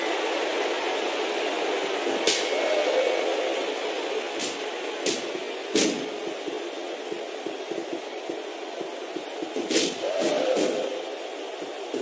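Fired-up wrestling crowd in a WWE video game Royal Rumble match, Triple H versus Big Show, a steady broad roar of cheering with occasional sharp spikes of louder shouts throughout.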